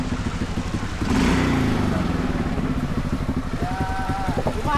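A motorcycle engine keeps idling with a rapid, throbbing putter nearby, while people talk over it.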